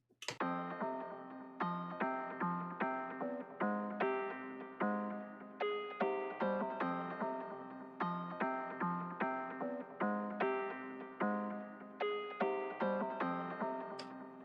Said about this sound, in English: It's a faceplant preset called Friendly Gestures that I thought sounded really nice.